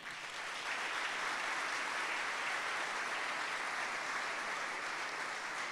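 Audience applause inside a prison during an inspirational talk, a dense and even swell of many hands clapping that rises quickly and stays steady and fairly loud throughout, with no voices over it.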